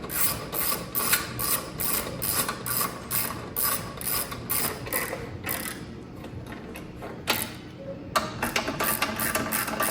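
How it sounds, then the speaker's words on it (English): Rapid ratcheting clicks from tightening M6 bolts with a 5mm Allen key on an LSA four-corner steam vent kit, close and steady in repeated bursts, with a brief pause near the end. "So you're going to take your 5mm Allen and just tighten it down."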